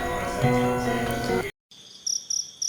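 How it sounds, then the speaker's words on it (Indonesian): Crickets and other night creatures chirp in a steady, close insect chorus, first layered under other sound, then after a brief silence as bright repeated chirps standing alone. "suara-suara jangkrik juga suara-suara binatang malam pun bersahutan"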